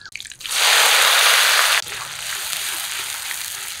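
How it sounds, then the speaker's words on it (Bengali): Chopped onion dropped into hot mustard oil with whole dry chillies, bay leaf, cumin and garam masala, bursting into a loud hissing sizzle that settles into a steady, quieter crackle. "এখন পেঁয়াজ কুচি দিই"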